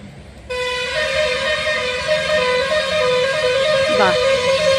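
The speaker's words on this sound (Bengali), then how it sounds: "যা গাড়ির হর্ন, কি কথা বলবো বলো।" A car horn starts abruptly and blares in one long, sustained, loud honk lasting several seconds, nearby, with traffic rumble underneath.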